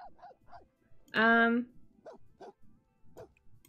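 A single loud, tonal bark comes from a dog in The Sims 4 Cats & Dogs, sounding between bursts of talking that continue before and after it.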